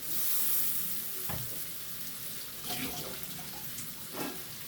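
Prawns frying with cumin powder in a hot pan, a loud broad hiss of oil with a few stirring scrapes and clatters, fairly close and continuous, no talking.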